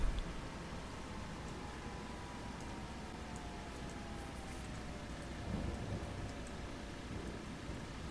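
Steady rainfall on a farm in the video game Farming Simulator 25, on the Seven Species Homestead map in spring. It is a constant soft hiss with a slight swell near the end, heard alone without voices.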